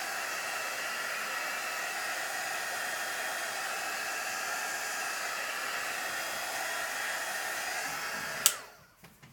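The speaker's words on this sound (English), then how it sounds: "the heat from the heat gun is making it smell really good in here" A heat gun blows with a steady, close, even hiss of rushing air, running unbroken for several seconds before it switches off abruptly near the end.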